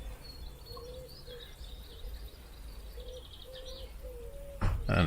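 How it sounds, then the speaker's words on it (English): Faint birds chirp and sing in a quiet outdoor setting, with soft repeated low cooing notes and a brief rustle at the end. "The only sounds are the birds singing, the doves cooing,"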